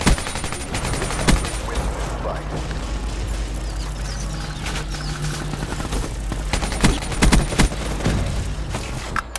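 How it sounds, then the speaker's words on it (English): Sentry gun fire in the video game Black Ops 3, loud continuous rapid automatic bursts with scattered sharp shots and impacts, close and dense throughout. "I got a sentry gun on both sides."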